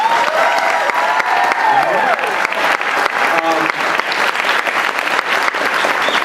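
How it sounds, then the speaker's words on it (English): A large audience at a media expo closing ceremony applauds the MC in a dense, steady wash of clapping that fills the whole stretch, with faint voices and scattered cheers mixed underneath. "Can we get a round of applause for him?"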